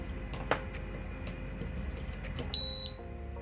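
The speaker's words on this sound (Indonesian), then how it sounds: "Nah, sudah bunyi bip ya." An electronic sterilizer device for pesticide removal and food preservation gives a single clear high-pitched electronic beep lasting about a third of a second right after its adapter is plugged back in, preceded by a faint click and light handling noise.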